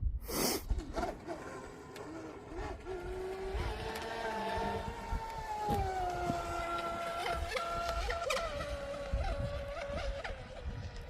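A Proboat Impulse 32 RC boat runs on choppy open water with a steady, fairly faint high motor whine that rises and falls in pitch as it skips over the waves, heard from a distance with wind noise.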